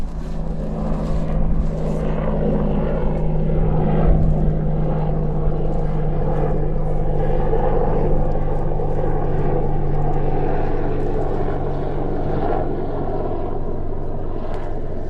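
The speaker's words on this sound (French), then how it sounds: "Attends que les hélicoptères passent." Helicopters flying overhead produce a steady, loud rotor and engine drone that holds for the whole stretch without fading, with no speech over it.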